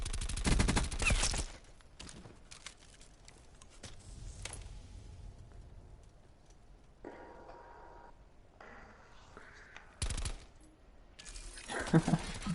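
Gunfire in a 1v1 competitive video game match, bursts of rapid automatic shots opening and returning near the end, with quieter mechanical clicks and game effects in between, played loud and without talk.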